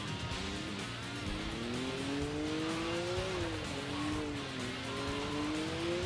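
A BGA Valon race car in Sega GT 2002 drives with a sustained, rising and falling engine whine as it accelerates and shifts, loud and steady throughout with no talking.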